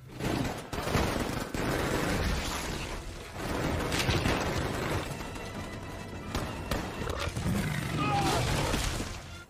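Four-legged alien creatures attack in a film scene, with loud roaring growls and sharp bursts of gunfire-like cracks continuing almost nonstop over a dense, close action soundtrack.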